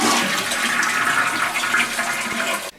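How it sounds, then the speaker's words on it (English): A toilet tank flushes to drain out its water: a loud, continuous rush and gurgle of water lasting nearly three seconds, cutting off abruptly at the end. "the next thing we're going to want to do is flush the tank, get all the water out of here"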